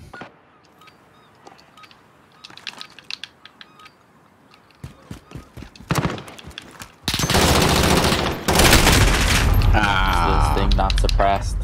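Gunfire from the Modern Warfare video game during a 3v3 fight on the Docks map, with scattered shots giving way to loud, sustained bursts of rapid automatic fire, mixed with players talking.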